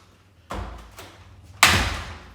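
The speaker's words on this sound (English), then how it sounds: "I'm just going to shut this door." A metal dog crate door is swung shut with a calm dog inside: a thump, a lighter knock, then a sharper rattling clank as it closes, close by and with no talking.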